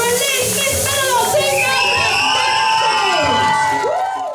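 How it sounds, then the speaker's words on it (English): A village crowd cheers and whoops loudly for the winner of the Miss Meadowlark contest, with shouting children and excited voices rising over a continuous roar. "Massive round of applause for Elise,"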